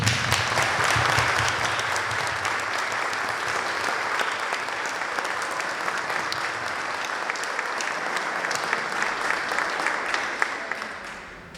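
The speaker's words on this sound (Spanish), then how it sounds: "Y quisiera pedir un aplauso para nuestros estudiantes." An audience in a history lecture hall in Azul claps for students, a full and dense round of applause that holds steady and then slowly thins out toward the end.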